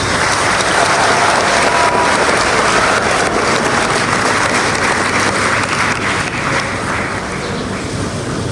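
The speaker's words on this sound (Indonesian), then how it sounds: "Tepuk tangan untuk kita semua." Loud, sustained applause from a large crowd at a morning Youth Pledge Day ceremony at a high school, a dense, steady roar of clapping lasting throughout with no pauses.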